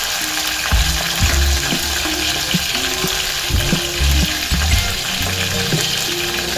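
Curry leaves and chopped coriander frying in a hot pan for Marathi green moong amti, a loud crackling sizzle with bursts of spattering and stirring clatter throughout.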